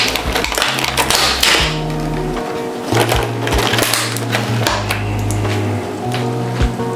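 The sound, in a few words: mixing an egg with a fork in a bowl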